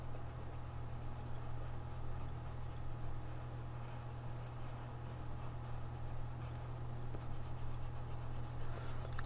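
A Zebra Zensations colored pencil scribbles steadily on paper close up, a continuous dry scratchy rasp with quicker strokes near the end and no talk.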